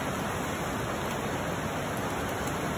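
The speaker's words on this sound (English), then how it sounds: "River is raising." A swollen river in the Amazon forest rushes steadily, a dense, continuous roar of water that stays loud and even throughout with no voices over it.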